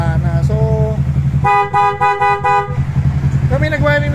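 A Yamaha motorcycle horn toots in several short bursts, then one longer blast, over a steady idling engine; another horn tone follows briefly.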